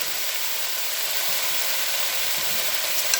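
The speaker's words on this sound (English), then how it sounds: "Give that a little stir." Broth-laced stir fry sizzles and hisses steadily in a pot while being stirred, a continuous bright frying noise with faint scraping underneath and no talking.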